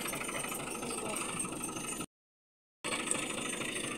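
A tractor engine idling, a steady loud mechanical drone with a brief total dropout in the middle before the same running sound resumes.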